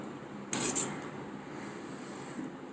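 A spoon scrapes and clinks against a dish while green chillies are eaten, one short sharp burst of metal-on-dish scraping up close, followed by quiet room tone.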